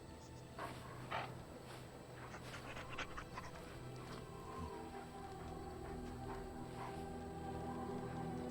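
A dog pants steadily in the Dragon Age: Origins video game, quick rhythmic breathy huffs close by over a faint ambient drone, with occasional light whimpers and no talk.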